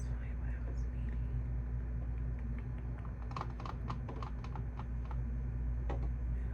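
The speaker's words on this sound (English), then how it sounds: "so that I can actually get some typing sounds in" Office computer keyboard typing: bursts of quick key clicks start a few seconds in and continue in an uneven patter over a steady low room hum.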